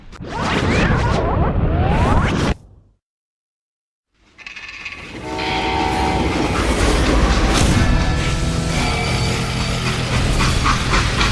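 In the video game Call of Juarez: Gunslinger, a freight train rumbles and whooshes loudly, drops out into a brief silence, then rolls on with a steady clattering roar and metallic ringing.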